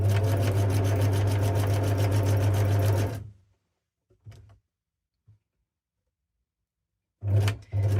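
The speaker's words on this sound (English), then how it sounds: "I'm going to just sew straight down the middle with this one" A sewing machine stitches fabric for a snippet roll, running loudly and steadily for about three seconds, stopping, then briefly starting again at the end.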